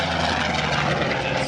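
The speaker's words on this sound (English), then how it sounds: "this airplane coming in from the left with one engine" A single-engine Skyraider propeller airplane passes at an airshow, its engine drone loud, steady and close across the whole moment.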